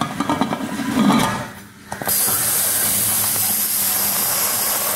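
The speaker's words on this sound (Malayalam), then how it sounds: "ഇതിന്റെ ആവി നന്നായിട്ട് പോയിട്ടുണ്ട് കേട്ടോ" A pressure cooker holding chicken vents steam: a few clatters and a brief lull, then a loud, steady hiss that fills the rest of the clip.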